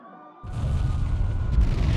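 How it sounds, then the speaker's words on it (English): Cannon fire in the video game Ys X: a sudden deep boom follows a brief quiet moment and then rolls into a sustained low rumble. "Sounds like screaming and cannon fire."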